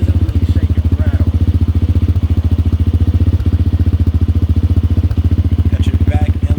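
A 2019 Tao Raptor 200cc ATV engine runs close and loud with a steady, rapid idle pulse and a rattly edge, alone throughout.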